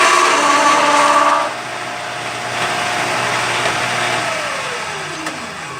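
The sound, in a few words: case trimmer cutting 9x18 Makarov brass case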